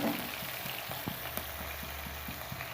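Chopped onion, garlic, chili and ginger frying together in a pan: a steady, even sizzle with light popping crackles at a fairly regular pace, close up and without voices.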